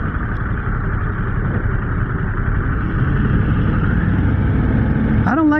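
Harley-Davidson V-twin motorcycle engine idling with a steady low rumble throughout, close and loud, with a brief rising rev near the end; a speech-like tone may sit in the mix but no words are clear.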